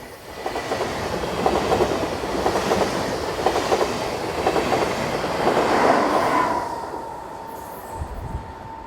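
A Swiss 460-004 electric locomotive propelling a Luzern to Basel interregional passenger train rolls past nearby with rhythmic wheel clatter and rumble, then fades as a rising whine lingers and a low thump ends it.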